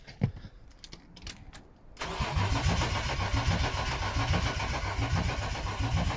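A BMW E36 coupe with a freshly installed 2.8 engine cranks after some faint clicks and knocks, then catches at about two seconds and settles into a loud, steady, rough idle close by.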